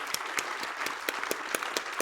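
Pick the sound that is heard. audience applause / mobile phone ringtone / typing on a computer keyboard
audience applause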